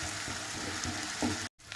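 Tomatoes with salt, turmeric and spices fry loudly in a pan for fish curry, a thick continuous sizzle that drops out abruptly for a split second before resuming.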